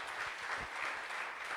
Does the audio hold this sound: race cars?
no